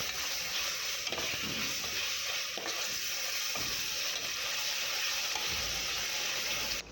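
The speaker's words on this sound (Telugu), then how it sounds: "ఒక 2 పెద్ద టేబుల్ స్పూన్స్ ఆఫ్ అల్లం వెల్లుల్లి పేస్ట్ వేసుకోండి. ఇలా పచ్చివాసన పోయేంత వరకు మంచిగా మిక్స్ చేసుకోండి." Ginger garlic paste fries in a pan for a mutton paya dish, giving a continuous loud sizzle close by, with occasional scraping strokes as it is stirred.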